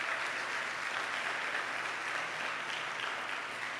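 Church congregation applauding during a sermon, a steady, dense wash of clapping hands that holds evenly throughout without any voices over it.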